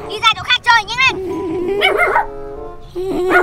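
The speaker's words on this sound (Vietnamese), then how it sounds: "Ô, sao ở kia có cái con chó nào?" A dog barks and yips in quick short bursts, then gives a longer whining call, fairly close, with people talking around it.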